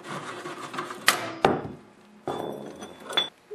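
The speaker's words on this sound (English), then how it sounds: "Now one of the gears came out" Metal gears clink and knock loose from the transmission shaft of an MTD snowblower under repair: two sharp close clanks, then rubbing and scraping of parts being handled, with no speech.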